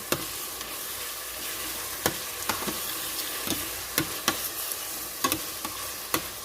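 Beef sizzles and crackles in a hot frying pan for goulash, steady hiss broken by sharp pops and spatters, close and fairly loud, with no talking.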